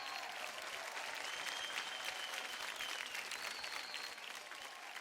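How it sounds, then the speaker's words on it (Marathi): Studio audience on a Marathi television dance show clapping in a steady, sustained burst of applause, dense and even throughout before easing slightly at the end, with no voices standing out. "जोरदार टाळ्या होऊन जाऊ द्या"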